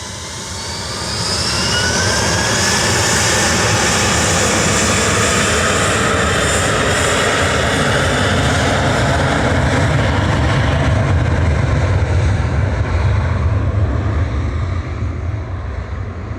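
Jet airliners roar at Manchester Airport, a loud sustained jet engine rumble and whine that swells within the first two seconds, holds steady and close, then eases slightly toward the end.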